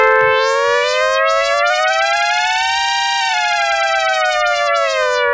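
Synthesizer note in Ableton Live with its pitch swept by a macro control, a loud sustained bright buzzy tone that glides up, peaks around the middle and falls back, heard alone with no talk.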